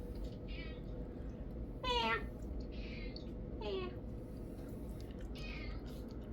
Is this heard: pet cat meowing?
yes